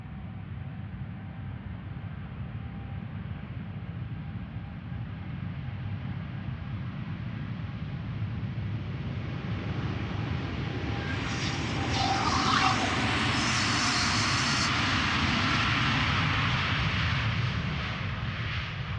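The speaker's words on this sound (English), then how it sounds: "It's a 787-10 Dreamliner going to Panama City." A KLM Boeing 787-10 Dreamliner departs Amsterdam Schiphol, its engine roar building from a distant rumble to a loud, broad rush that peaks and holds near the end.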